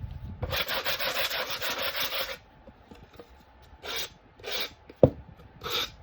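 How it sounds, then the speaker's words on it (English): Rapid back-and-forth scratchy rubbing of a sponge sanding wood, a long steady burst followed by a few shorter strokes and a light knock. "I'm just going to take my little sanding sponge."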